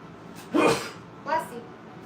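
A single sharp sneeze bursts out, followed a moment later by a softer, shorter second burst, close to the listener.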